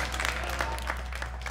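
Audience applause at a tennis event, a steady patter of many hands clapping at moderate volume over a low background hum, with no voices standing out.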